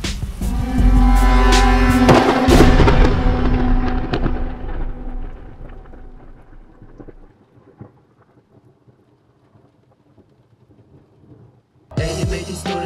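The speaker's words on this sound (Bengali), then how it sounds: "বজ্রপাতের শব্দে প্রকল্পিত হয় চারপাশ" A loud, heavy thunderclap with a lightning strike booms on a rainy night in a horror story, then rumbles and slowly fades before rain returns at full strength.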